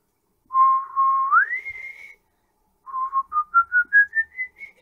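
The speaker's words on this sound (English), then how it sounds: "when I whistle into my microphone, and I can probably cover about an octave range" Whistling into a microphone in two phrases: first a held tone that glides upward, then a series of short notes stepping up roughly an octave, clear and close with no talk.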